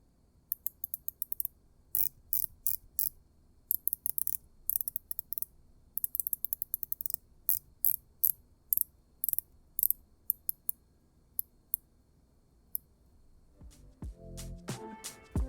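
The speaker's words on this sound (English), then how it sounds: "Here's how the bezel action sounds." A Seiko Prospex King Turtle SRPH57 ceramic bezel is turned, giving crisp, close ratcheting clicks in irregular bursts and runs, with a louder different mechanical rattle near the end.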